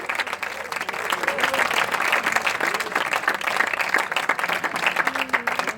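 A church congregation breaks into loud, sustained applause, dense clapping from many hands continuing throughout with faint crowd murmur.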